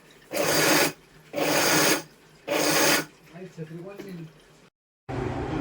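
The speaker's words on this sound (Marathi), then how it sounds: "चालू बंद आपल्याला मिक्सर करायचं आहे." A mixer grinder pulses on and off three times, each a loud roughly one-second burst of grinding roasted peanuts with sesame and garlic for chutney, followed by a short spoken stretch, a moment of silence and another burst.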